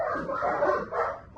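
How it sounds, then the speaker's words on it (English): Several dogs barking excitedly downstairs: a quick cluster of yapping, overlapping barks, muffled and somewhat distant but loud, over a brief burst. "My doggies downstairs are going crazy."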